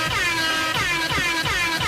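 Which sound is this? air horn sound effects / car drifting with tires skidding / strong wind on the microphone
air horn sound effects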